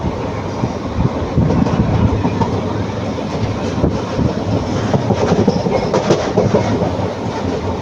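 An Intercity Express train between Erode and Palakkad runs through deep forest with a steady, loud rumble of wheels on rails and a continuous clatter, no voices.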